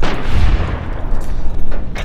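A single gunshot from a firearm in Fallout: New Vegas, a loud booming blast with a heavy low thump up front, ringing out and decaying over about two seconds with no talk over it.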